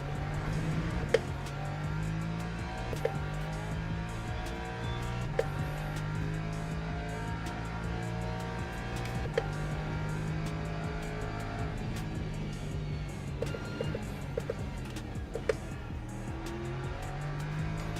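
A hypercar engine howls at Monza in Le Mans Ultimate, a steady high-revving drone with gear shifts marked by short clicks and pitch drops, loud and continuous with no talk.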